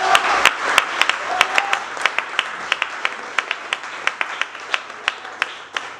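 A church congregation applauding during a service, steady clapping with sharp individual claps standing out, fairly close and continuous throughout.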